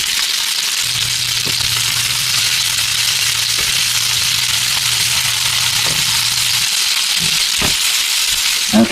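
A piece of lamb searing in a hot pan, a steady close hiss and crackle of fat running throughout, with a few soft knocks near the end.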